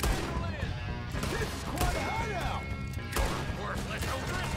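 Gunfire and crashing impacts fill a chaotic fight in the video game Red Dead Redemption, a dense run of loud bangs and thuds layered over background game sounds.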